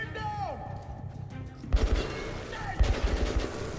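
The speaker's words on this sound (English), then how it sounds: "They're still shooting at me." Enemy gunfire in Metro 2033 Redux arrives as two sharp clusters of rapid shots, one near the middle and one near the end, loud bursts over background game sound while someone talks.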